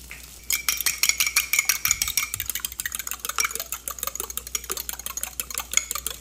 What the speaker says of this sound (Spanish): Voy a agregar dos huevos y los voy a batir.